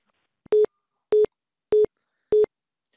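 Four evenly spaced short beeps of a telephone busy tone after a call is ended on a FreePBX/Asterisk phone system, clean and steady with silence between.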